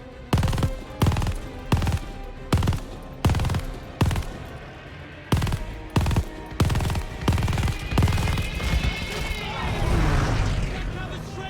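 A mounted machine gun fires in Call of Duty Vanguard, loud rhythmic bursts of rapid shots separated by short pauses, close and punchy, with a voice speaking over the shooting and rumbling explosions near the end.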